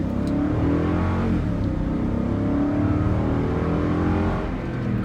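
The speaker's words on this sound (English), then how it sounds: "Let's see how the acceleration here is on this little straight." A 2018/19 Toyota Sequoia Platinum accelerating hard along a short straight, heard from inside as a loud, continuous engine roar with rising harmonic sweeps as the revs climb, no talking.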